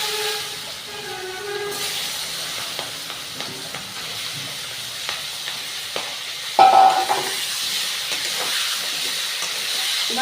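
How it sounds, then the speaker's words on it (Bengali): Potatoes rubbed with salt and turmeric sizzle in hot oil in a kadai wok, a steady close hiss with a brief louder burst partway through. "এবার আলুটাকে আমি ভালো করে ভেজে নেবো আস্তে আস্তে"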